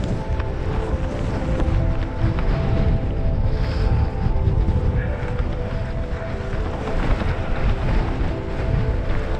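Strong wind roaring across open mountain land in the Irish countryside, a loud, constant buffeting rumble hitting the microphone without letup.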